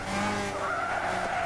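Tires skid and squeal in a sustained drift in the Gran Turismo 6 racing game, a loud continuous screech with engine noise beneath, steady for about a second and a half with no talk.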